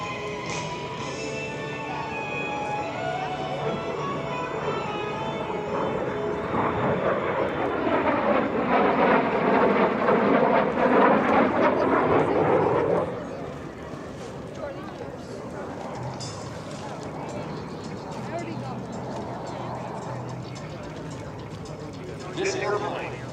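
A vintage T-33 Shooting Star jet trainer with a single Rolls-Royce turbojet of about 5,600 pounds thrust makes an air show pass, its roar swelling to a loud sweeping peak and then fading, with an announcer talking throughout.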